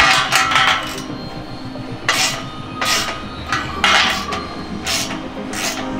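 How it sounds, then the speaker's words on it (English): Exhaust X-pipe clamps on an Infiniti Q50/Q60 being tightened with a hand tool, heard as repeated short rasping, ratcheting bursts at irregular intervals over a low background hum, fairly close. "we're gonna come back and we're gonna tighten these all the way."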